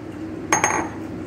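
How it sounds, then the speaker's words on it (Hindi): Dried chickpeas drop into a metal pressure cooker in a home kitchen, two quick bright rattling clatters close up, alone against a quiet room. "उससे पहले हम कुकर में काबुली चने डाल देंगे"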